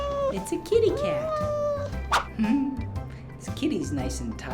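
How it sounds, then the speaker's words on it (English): A cat meows several times, with drawn-out, wavering cries and some caterwauling, close and fairly loud, mixed with clinks and other busy sounds. "It's a kitty cat."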